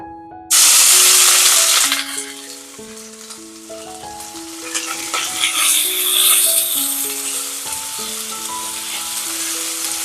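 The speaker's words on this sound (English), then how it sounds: "Now we're going to saute it" Onions, garlic and ginger sizzle steadily in a hot pan, a loud bright fry that eases a little after the first seconds and carries on with faint stirring, no talk.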